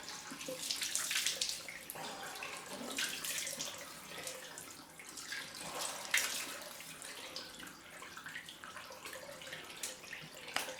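Cold water running from a tap for a rinse after shaving, a steady, soft, hissing stream with faint splashing that continues unbroken throughout.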